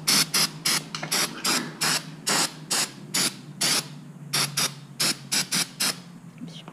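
Short repeated hissing bursts of starting fluid sprayed from an aerosol can into a truck's throttle body, about a dozen quick spritzes in an uneven rhythm, close and fairly quiet with no talk.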